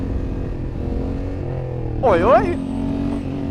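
A Honda Africa Twin motorcycle engine drones steadily up close in second gear during a wheelie, while someone shouts briefly over it partway through.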